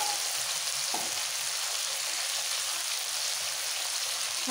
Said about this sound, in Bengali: এবার এই ফোড়নের তেলে একটু নাড়াচাড়া করে দিয়ে দিতে হবে নুন আর হলুদ